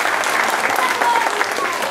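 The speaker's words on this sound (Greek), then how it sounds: "την οποία αρχίσει να χειροκροτάται από τώρα" An audience claps steadily at a school play in Piles, Karpathos, a dense, even patter of many hands close by with no gaps.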